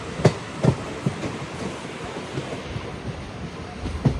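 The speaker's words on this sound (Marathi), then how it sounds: "ती ट्रेन जाते वाजून" A train rolls past with rhythmic clacks of wheels over rail joints above a steady low rumble, fairly close, no talking.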